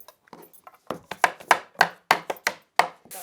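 Wooden kitchen cabinet panels tapped into their slots during assembly: a run of sharp, close knocks in uneven clusters, loud and dry with brief gaps between hits.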